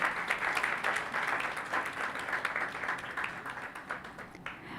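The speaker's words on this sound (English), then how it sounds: "Please give a huge round of applause to Aastha, Khanna, Bharadwaj." An audience applauds a panelist at a sex-therapy talk event, a steady, full round of clapping from a large crowd that holds for the whole stretch and fades slightly at the end.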